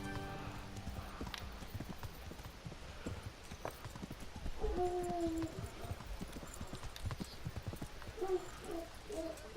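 Video game horse hooves clip-clop in a steady rhythmic patter throughout, with a couple of short whinny-like tones and soft background ambience.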